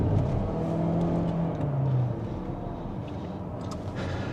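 A DS 7 SUV's engine pulls hard under acceleration, a steady loud drone with a rising tone that eases off partway through as the lazy gearbox shifts, heard from inside the car.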